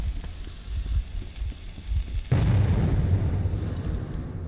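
A grenade detonates in the post-apocalyptic shooter Metro 2033, a sudden loud blast cutting in after a low rumbling background, followed by a sustained roaring, crackling wash of debris that slowly fades.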